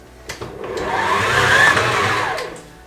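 A stand mixer with a dough hook kneads pizza dough at high speed, its motor whine swelling to a loud, steady whir before easing off, with a few knocks at the start.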